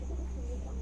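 A Lakha pigeon cooing softly close by, a low, brief murmuring call over a steady background hum.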